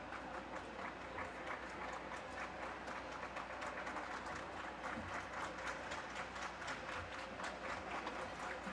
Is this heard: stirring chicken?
no